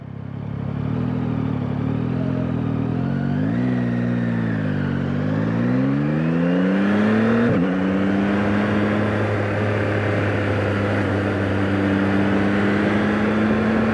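A 2024 Yamaha MT-09 motorcycle is ridden, its exhaust rising in pitch through a few gear pulls before settling into a steady, loud cruising drone with wind noise.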